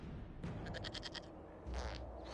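A goat bleating in the video game Dragon Age: Inquisition, one quavering, stuttering bleat at mid distance followed by a low thump, faint over quiet background ambience.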